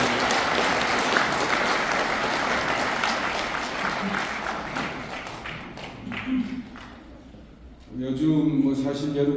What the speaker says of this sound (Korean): 자문위원님들 박수 한번 보내주시기 바랍니다